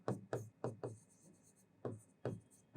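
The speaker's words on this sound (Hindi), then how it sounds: "चलो मैं थोड़ा सा बड़ा लिखता हूं" Chalk or marker writing on a classroom board during a maths lesson: a series of short scratchy strokes in an uneven rhythm, quiet and close, with brief pauses between them.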